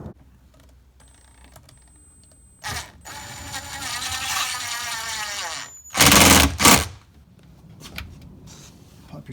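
Work on a rear door lock actuator of a 2010 Mercury Grand Marquis brings a steady whirring mechanical run, likely a powered driver sinking a screw, followed by two loud close clunks and softer handling noise.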